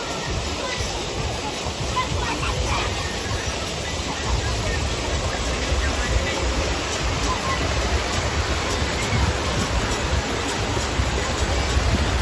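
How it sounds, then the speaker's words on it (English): Continuous rushing water of a river in Jamaica, broad and steady, filling the whole scene with a constant roar. "The tone of the river is so calm and relaxing."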